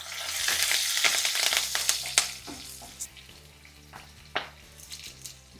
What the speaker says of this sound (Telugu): ఇలా ఎండుమిరపకాయలు నల్లగా వేగాలి.